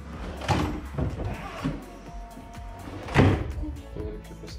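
Blum Servo-Drive kitchen drawers open and shut with several soft thuds and sliding knocks, spaced unevenly, the strongest about two thirds of the way through. The sounds are nearby in a quiet room.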